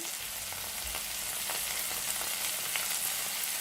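Curry chicken filling with peppers and salt sautéing in a pan, a constant hissing sizzle with faint occasional stirring taps, close and steady without any voices.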